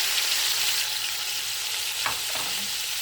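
Meat mixed with salt and spices sizzles steadily in a pot for Uzbek dimlama, a continuous close frying hiss with a few brief stirring scrapes partway through.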